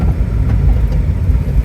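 Steady low engine drone and road rumble from inside a moving Suzuki Carry mini truck hauling a modded lawn mower, loud and continuous with no talk.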